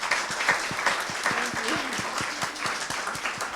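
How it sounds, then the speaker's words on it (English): An audience at a Harlem community board meeting on affordable housing applauds steadily, a dense round of clapping that carries throughout at moderate level, with a voice briefly audible beneath it. "if you could give a round of applause"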